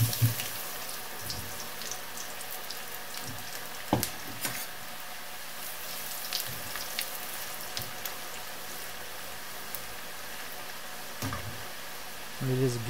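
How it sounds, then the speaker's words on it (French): French fries in their second cooking, frying in hot oil with a steady soft sizzle and patter, a few louder pops and clinks standing out, heard fairly close and fairly quiet. "Ensuite, je passe à la cuisson, la deuxième cuisson des frites."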